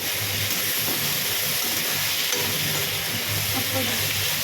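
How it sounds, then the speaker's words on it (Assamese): Garlic and ginger fry in hot oil in a pan, making a loud, continuous hiss and sizzle that stays steady throughout with no talking. "এয়া নহৰু আদা দি দিলোঁ দি পেলাই অকণমান ভাজিম"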